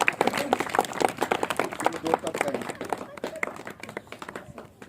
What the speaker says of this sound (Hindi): मेरे तालियों की जोरदार स्वागत